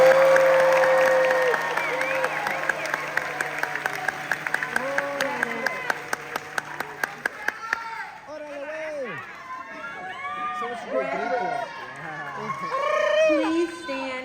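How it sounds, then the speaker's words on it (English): Applause at a culinary school graduation ceremony for graduates crossing the stage, a broad wash of clapping with crowd noise, voices and cheers running underneath throughout, loud and sustained, thinning into scattered chatter in the second half. "Let's fill the room with your applause and your support"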